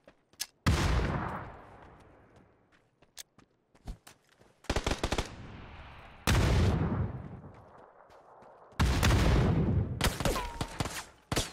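Bursts of automatic gunfire from a bot in PUBG: four loud, close volleys of rapid shots, each trailing off into echo, separated by quieter gaps with scattered single pops.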